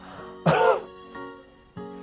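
A single cough into the elbow given as a health-hygiene demonstration, one short loud burst followed by two fainter breathy sounds, close and alone with no talking.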